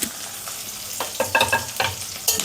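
Finely chopped onions and curry leaves sizzle in hot oil for carrot chitranna, a close steady frying hiss with several bursts of stirring and scraping and no voices.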